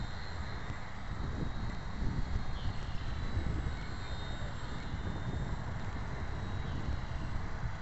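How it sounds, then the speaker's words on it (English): Strong wind blows outdoors at a field where an RC T-28 plane is being flown, a constant rough rumble of gusts buffeting the microphone, with a faint engine whine in the background and no talking. "this is way too much wind for that"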